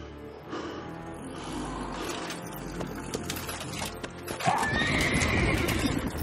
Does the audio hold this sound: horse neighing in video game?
yes